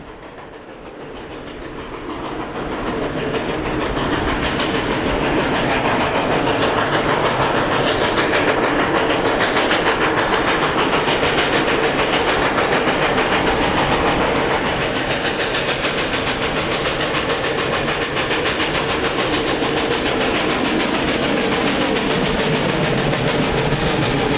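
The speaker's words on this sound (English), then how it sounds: "Leading its train is the helper locomotive with K-36 480 completing the lash up along the river bend." A Durango and Silverton steam train, led by K-28 number 473 with K-36 number 480 as helper, rumbles past along a river bend, its loud, continuous chuffing and clattering wheels mixed with hissing steam, with no talk.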